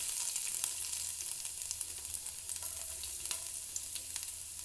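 Aromatics fry for a chicken stew, a quiet continuous sizzle in a pan with light, irregular stirring clicks and scrapes throughout.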